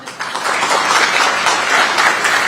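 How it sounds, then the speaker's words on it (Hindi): Sustained applause from an audience at a televised public forum in India, steady dense clapping filling the space without a break for a few seconds. "इतनी ताली किसी में नहीं बजी जितनी ताली आप में बजी"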